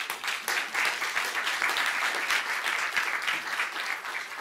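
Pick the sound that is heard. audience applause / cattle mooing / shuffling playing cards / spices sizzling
audience applause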